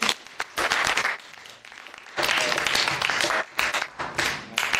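A room of JROTC cadets applauds a cadet speaker, with bursts of dense clapping broken by brief pauses, then a stronger, sustained round of claps.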